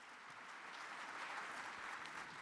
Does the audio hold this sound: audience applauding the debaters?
yes